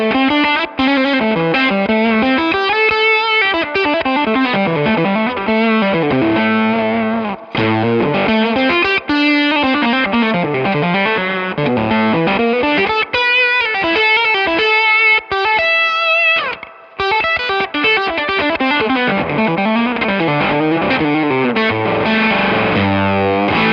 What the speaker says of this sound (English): sometimes what I'll do is I'll stack that with an overdrive